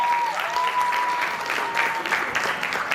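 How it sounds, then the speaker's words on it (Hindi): An audience at a theatre festival claps loudly and continuously to welcome a play's director onto the stage, a dense sustained applause with a faint tone underneath. "तो जोरदार ताली के साथ आप सभी स्वागत कीजिए"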